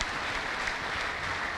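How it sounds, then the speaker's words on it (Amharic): A church congregation claps and cheers in praise during a healing service, a dense, continuous wash of many hands applauding at steady loudness with no speech over it. "ለጌታ እልልታ ጭብጨባ አምጡ።"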